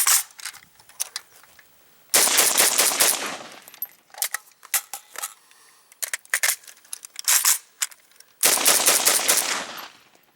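AK-47 rifle firing during a single-magazine test with polymer magazine clamps: several loud bursts of rapid shots, with scattered single cracks and handling clicks in between, close and sharp, with no talking.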